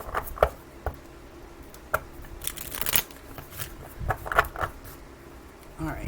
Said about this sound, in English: Okay, a couple of quick shuffles.